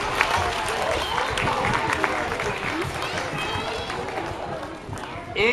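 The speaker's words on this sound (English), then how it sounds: "let's give her a big round of applause" A crowd claps and cheers steadily at a lively agriculture-themed event in Kentucky, with mixed voices and chatter running through the applause until it fades near the end.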